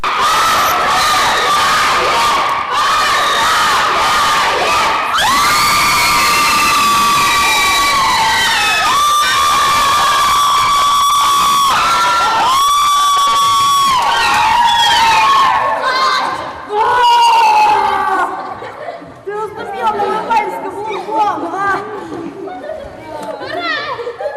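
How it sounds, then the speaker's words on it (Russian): Children in their home gym cheer and shout, a loud, close ovation of a crowd with chatter mixed in, thinning into scattered calls and voices toward the end. "В родном зале овации устроили уже воспитанники."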